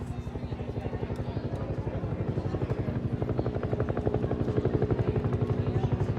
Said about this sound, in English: the Huey's going to make a flyover